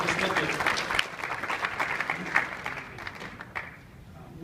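An audience at a Bass Pro Shops Tournament of Champions breakfast claps for the people who provided the footage, a moderate wave of applause that thins and fades out toward the end.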